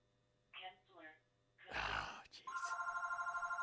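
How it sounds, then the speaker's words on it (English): A telephone rings in the background of a home livestream, its repeating electronic trill starting after a burst of noise and a short voiced sound and continuing steadily to the end. "The phone ringing in my background."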